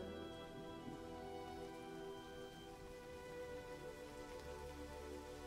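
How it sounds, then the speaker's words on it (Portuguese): Steady, soft rain pours down on the earth as an even hiss, blended with sustained tonal hum throughout and no pauses. "Veja essa chuva molhando a terra toda."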